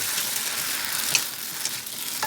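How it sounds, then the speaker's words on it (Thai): Wide rice noodles stir-fried in a pan for rad na, a continuous bright sizzle with a few brief scraping stirs, close and steady with no talking. "นี่ค่ะผัดแบบนี้เลย"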